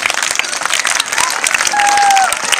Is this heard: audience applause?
yes